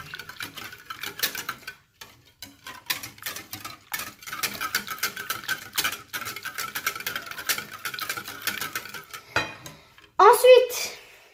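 Cake batter ingredients being mixed in a bowl, with rapid rhythmic tapping and scraping of a utensil against the bowl, pausing briefly and ending with a louder clatter, close and without talk.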